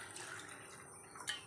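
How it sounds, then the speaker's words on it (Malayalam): A little water is poured into a cooking pot while making tomato sambar, a brief faint splash and trickle ending in a sharper spill near the end. "കുറച്ച് വെള്ളം ഒഴിച്ചിടാം."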